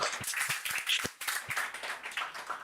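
Audience clapping at a talk show, quiet and somewhat scattered, with distinct hand claps landing in a loose rhythm over a few seconds.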